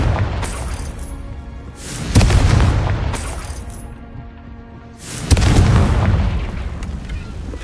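Confringo blasting spell explosions: two heavy, loud booms with crackling debris that fade slowly between bursts, after a lighter opening blast.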